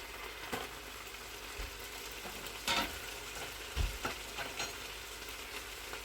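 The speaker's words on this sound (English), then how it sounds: "we'll just saute these off nicely together with the mince" Chopped onions sauté with browned beef mince in a Ninja 15-in-1 pressure cooker pot, giving a soft, steady sizzle broken by a few louder spoon scrapes and knocks as the mixture is stirred.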